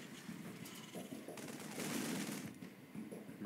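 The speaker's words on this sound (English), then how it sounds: "Marines coming to gun down that Overseer" Marines in StarCraft 2 gun down an Overseer: rapid bursts of sci-fi rifle fire rattle in quick succession, swelling louder in the middle and continuing in a busy, crackling stream.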